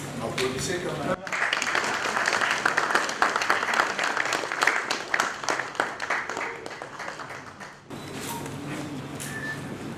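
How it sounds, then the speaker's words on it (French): Audience at a parliamentary award ceremony breaks into sustained applause lasting several seconds, dense and fairly loud, with talk heard before and after the clapping. "Applaudissez quand même."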